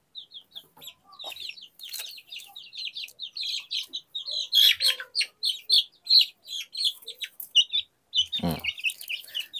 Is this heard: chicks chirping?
yes